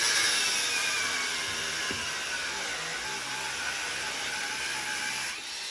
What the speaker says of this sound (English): So, out came the angle grinder again.